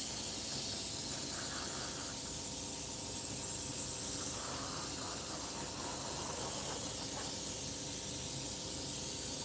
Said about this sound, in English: Now, I do prefer airbrushing, especially for on the inside of pieces, because it uses such a little amount of the stain.